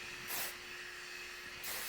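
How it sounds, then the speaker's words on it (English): Heat protectant hair spray is misted around the hair in two short, soft hissing bursts separated by a pause, close and fairly quiet. "So I just do a very light spray"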